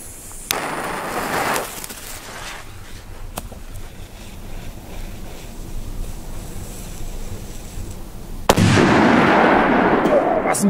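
A Turbo Color Wistlixander Polish firecracker, part of a Polenböller compilation, goes off with a sharp loud bang and a burst of noise near the end, after quieter outdoor rumble and an earlier short blast.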